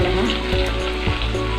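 Green chillies sizzle in hot oil in a pan for papad curry, a continuous close frying crackle punctuated by a few soft stirring bumps, with no speech.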